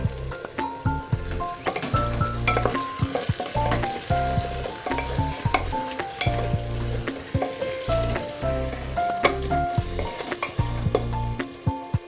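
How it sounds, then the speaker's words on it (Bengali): Onions and potatoes for mutton biryani sizzle and crackle steadily in hot oil, with occasional stirring scrapes and clinks close by, no voices. "পেঁয়াজ প্রায় ভাজা ভাজা হয়ে এসেছে, আমি এবার আলুগুলোকে দিয়ে দিচ্ছি।"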